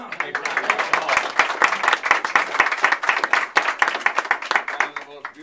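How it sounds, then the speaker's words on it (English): Applause from a crowd at a campaign office grand opening, with distinct individual claps standing out in an uneven rhythm, near and lively, with some voices mixed in. "Let's give her a big round of applause"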